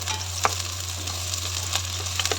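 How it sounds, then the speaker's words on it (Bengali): Onions fry in a Miyako multi curry cooker with a steady, soft sizzle over a low electrical hum, broken by a few faint crackles and pops; no one speaks. "দিয়ে দিয়েছি পেঁয়াজ। পেঁয়াজটা ভাজা ভাজা হয়ে গেলে"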